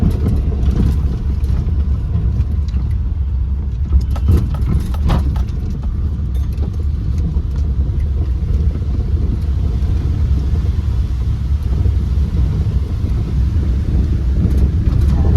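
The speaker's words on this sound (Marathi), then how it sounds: "एवढ्या पाण्यातून आपली गाडी चालते" A car drives along a waterlogged road with a steady low engine rumble and continuous wind-like noise throughout.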